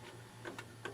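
A Samsung DVD-V5500 DVD/VHS combo unit ejects a VHS tape: three quiet, close mechanical clicks and clunks from the transport over a faint steady hum.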